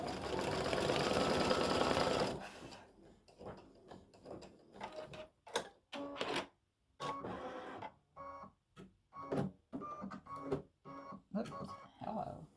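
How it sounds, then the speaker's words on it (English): An embroidery machine satin-stitches a zigzag edge around a St Patrick's Day gnome appliqué, a dense, steady mechanical whir for about two seconds before it stops, followed by scattered short clicks and bursts. "let it do the zigzag stitch, the satin stitch, along the edge to hold that down"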